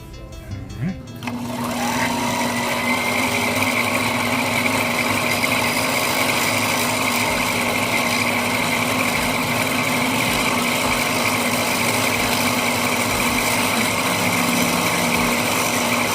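A Daiwa BG6500 spinning fishing reel whirs fast and steady while spooling line, a continuous high mechanical drone holding for about fifteen seconds after a brief start, close and loud.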